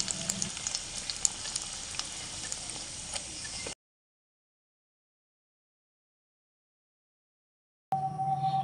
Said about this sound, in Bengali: একইভাবে আমি তোমাদের আরও কয়েকটা ফুচকা ভেজে দেখাচ্ছি।